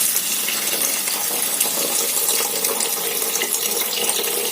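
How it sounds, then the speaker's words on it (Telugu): Water pours steadily into a pan of tomato curry, a continuous loud gushing splash that runs throughout with no voices. "ఇప్పుడు మనకు కావాల్సినంత వాటర్ అయితే పోసేసుకుందాం"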